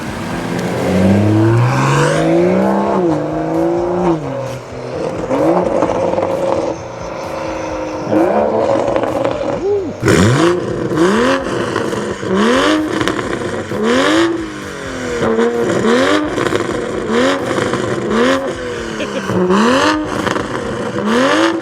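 Toyota Supra with a loud aftermarket exhaust revs hard and repeatedly, rising engine pitch sweeping up and dropping back in a steady rhythm of blips, close and dominant throughout.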